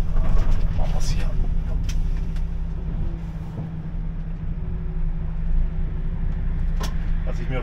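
A truck (LKW) engine drones steadily while driving, a deep low rumble with road noise that swells and dips slightly throughout, with someone talking over it.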